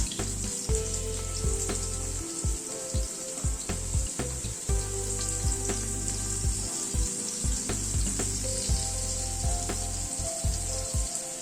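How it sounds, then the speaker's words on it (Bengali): Potatoes fry lightly in a pan while being stirred, giving a loud, constant close sizzle broken by regular scraping and clattering strokes of the spatula. "আলুটাকে হালকা করে ফ্রাই করে নিচ্ছি"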